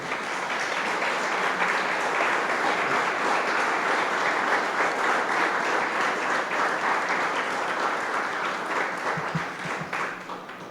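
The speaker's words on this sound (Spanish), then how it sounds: "Dale un aplauso al Señor" Church congregation applauding in a steady, full wash of claps that holds for several seconds and then thins out near the end, with no speech over it.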